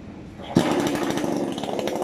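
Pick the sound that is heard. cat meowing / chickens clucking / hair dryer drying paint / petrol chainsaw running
petrol chainsaw running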